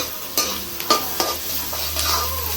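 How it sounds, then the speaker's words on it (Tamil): Onions and curry leaves fry in hot oil for a Tamil fish curry, with a steady close sizzle broken by several scraping stirs of a spoon against the pan. "இந்த மாதிரி நல்லா வெங்காயம் போட்டு நல்லா வதக்கணும்"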